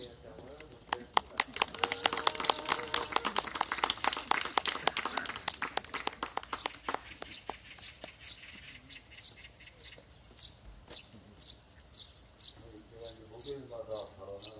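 Audience clapping at an outdoor peace-action gathering, sharp individual claps building into a lively burst and then thinning to scattered claps, with birds chirping and voices in the background.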